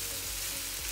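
Minced chicken meat sizzles loudly in vegetable oil in a pan over low heat, producing a steady, dense crackle with no talking.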